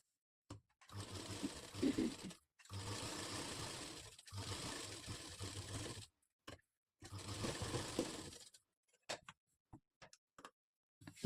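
A sewing machine runs stitches along the edge of katori blouse fabric in several steady, rapid-ticking runs of a couple of seconds each, with short silent pauses between them and a few faint clicks at the end.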